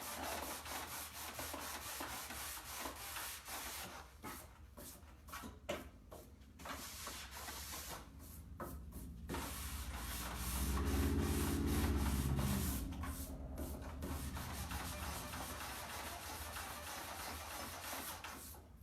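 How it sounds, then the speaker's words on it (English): Orbital hand sander working over painted wood, a steady close rubbing hum that swells louder midway with a deeper motor drone, then settles back to a continuous gritty scrubbing. "I wish that orbital sander wasn't so loud so I could really show y'all."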